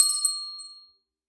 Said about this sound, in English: I'm just going to ring my bell for protection